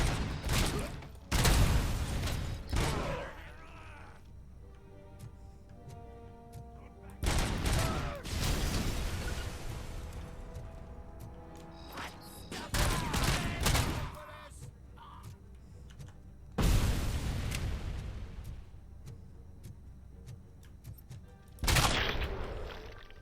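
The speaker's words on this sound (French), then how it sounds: "Oh oh, qui me tire dessus." Gunfire in the RoboCop: Rogue City video game, with repeated loud bursts of shots separated by quieter stretches of game ambience and a voice talking between them.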